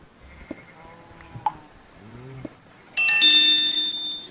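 Sheep bleating in the blocky sandbox game Minecraft, a few short wavering bleats rising and falling over quiet ambient game audio, followed by a louder bright chiming burst near the end.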